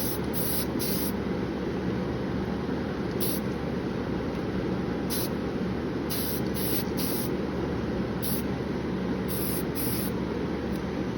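Steady, continuous hiss of a spray paint can spraying close up onto a model railroad hopper car, unbroken for several seconds, with no voices.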